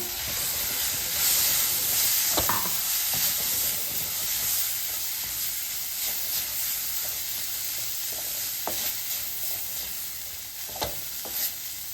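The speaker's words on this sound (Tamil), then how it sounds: "கருவேப்பிலை சேர்த்து ஒரு கலரி விட்டுட்டு சாதத்தையும் சேர்த்துடலாம்." Curry leaves and cooked rice stirred in hot oil in a pan, a steady close sizzle and hiss with occasional scraping stir clicks, no voices.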